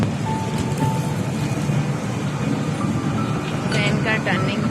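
A small toy train at a Jain temple site in Manej village, Gujarat, rumbles along steadily nearby with a continuous mechanical drone, while voices talk over it.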